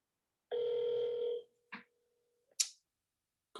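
An outgoing phone call, a single sustained ringback tone for about a second followed by short clicks and brief bursts of line noise while waiting for pickup, no voices.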